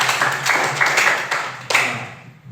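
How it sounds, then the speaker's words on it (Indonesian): A short round of hand clapping, a few people clapping briefly and fairly softly, ending with a last clap that fades out. "Bagus, tepuk tangan buat Anil."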